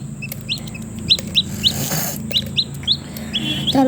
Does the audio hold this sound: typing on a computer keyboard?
no